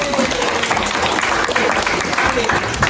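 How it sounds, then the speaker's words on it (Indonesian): Class applauding in an Indonesian teacher-training lesson, a dense, loud burst of clapping filling nearly three seconds with a steady rhythm and faint voices underneath. "Tepuk tangan."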